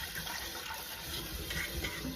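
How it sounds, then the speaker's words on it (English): Cold running water rinses a Mexican clay pot inside and out, a dense, steady splashing rush close up, with no voices over it. "we're just going to rinse it all the way around, as well as the inside with cold water"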